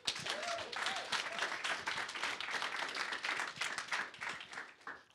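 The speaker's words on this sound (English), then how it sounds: "Wow, I like that applause." Applause from an audience at a GOES-S spacecraft social briefing, dense steady clapping for about five seconds at moderate distance, with a few faint voices mixed in.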